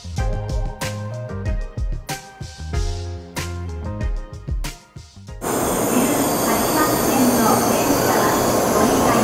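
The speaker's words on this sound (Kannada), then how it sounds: "ನೋಡಿ, ಇದೇ ಬುಲೆಟ್ ಟ್ರೈನ್." A Japanese bullet train rushes past with a loud, continuous roar and whoosh, following a stretch of rhythmic music; people talk faintly.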